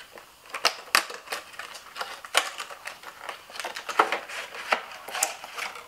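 Plastic packaging of Real Techniques makeup brushes being opened, a busy run of crinkling, crackling and snapping plastic with sharp clicks, close and fairly loud throughout.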